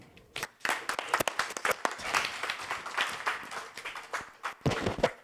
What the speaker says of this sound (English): So I want you to have a big round of applause for Paul Sonkamble.